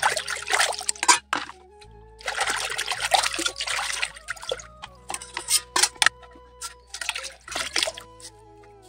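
Running water trickles and splashes in uneven bursts as a tiffin box is rinsed at a sink, with clinks and drips between the louder spells of flow.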